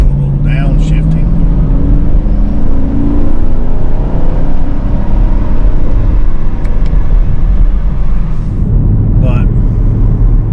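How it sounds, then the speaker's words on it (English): Chevrolet Camaro SS engine downshifting in manual mode, a loud, steady rumble with rising and falling revs heard from close by, mixed with some talk. "Click it over to manual mode, do a little downshifting."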